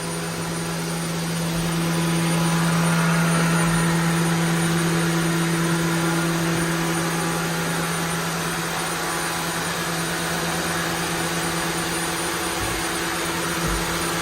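A machine spindle runs at 10,000 RPM with a steady, loud high-pitched whine and a constant mechanical drone that holds evenly for the whole stretch.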